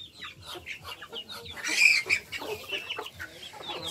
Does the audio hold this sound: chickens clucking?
yes